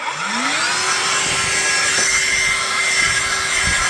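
A handheld vacuum cleaner spins up with a rising whine, then holds a steady loud motor drone with airy suction hiss, alone and close.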